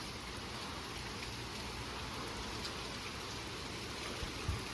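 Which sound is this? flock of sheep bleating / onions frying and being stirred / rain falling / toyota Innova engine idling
rain falling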